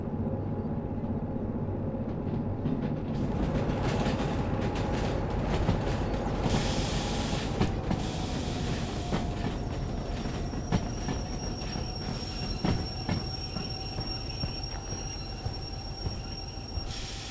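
Rusty museum trains in the Derail Valley game roll along the rails with continuous rumbling, clicking wheels and drawn-out metallic squeals, steady and fairly close.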